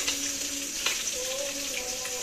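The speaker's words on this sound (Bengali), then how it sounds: "মাছ ভাজা কিন্তু দেখো হচ্ছে" Fish frying in hot oil in a home kitchen, a steady close sizzle and crackle with a few sharper spatters, running continuously without talk.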